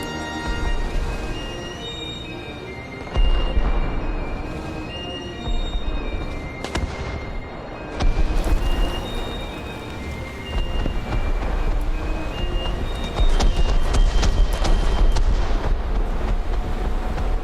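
Artillery strike explosions pound the area in the War Thunder video game, a barrage of loud, close booming blasts with crackling debris and rumbling between impacts, building in intensity toward the end with no voices.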